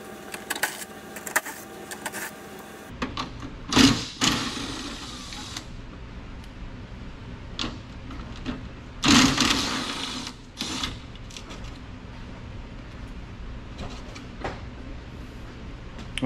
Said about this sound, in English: then I have to pull off these two 10 millimeter bolts holding the hood release on